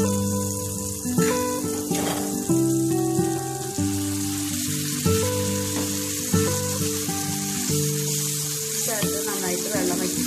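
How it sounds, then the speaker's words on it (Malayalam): Dates, garlic and grapes sautéing in a pan for a date and grape chutney, a continuous soft sizzle beneath steady background music, with occasional faint stirring. "ഈത്തപ്പഴം, വെളുത്തുള്ളി കൂട്ട്, മുന്തിരി കൂട്ട് ഇതിലേക്ക് ചേർത്ത് മൂപ്പിച്ചെടുക്കുക."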